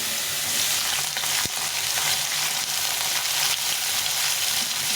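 Carrots and beans fry in hot oil in a pan for a vegetable soya bean dish, giving a steady, loud, close hiss with light stirring scrapes and one sharp tap partway through.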